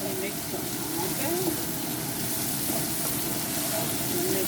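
Onion, carrot and green beans frying lightly in oil for Tamil upma, a dense steady sizzle close up, with a voice faintly audible beneath the frying.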